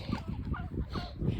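Turkeys gobble nearby in a backyard, a short burst of throaty warbling calls repeating quickly over about a second, moderately loud and close.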